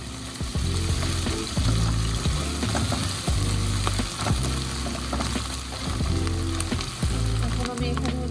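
Ginger garlic paste frying in a pan while making chicken samosa filling, with a steady loud sizzle and repeated scraping, clattering stirring strokes throughout.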